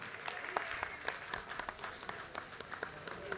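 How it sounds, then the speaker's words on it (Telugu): An audience at a Telugu folk song gathering applauds. The clapping is faint and distant but steady, with sharp individual claps standing out above the rest for a few seconds. "గట్టిగా చప్పట్లు కొడితేనే నేను నిలబడతా"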